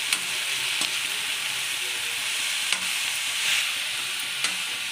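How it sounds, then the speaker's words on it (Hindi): Tomatoes with salt sizzle in a pan for pasta sauce, a bright, steady frying hiss with a few soft knocks as they are stirred. "नमक को वो हम मिला देंगे ताकि टमाटर जल्दी से पक जाए।"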